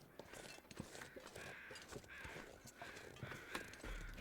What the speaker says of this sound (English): Very noisy crows.